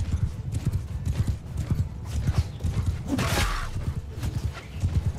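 Horse hooves clip-clop at a steady run in the Mount and Blade Bannerlord battle, close and continuous, mixed with a brief whinny and battle noise, with no talk over it.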